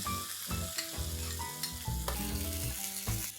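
Whipped curd hits garlic paste sizzling in a pan, with steady frying crackle and a few scraping stirs close by, continuous and fairly quiet.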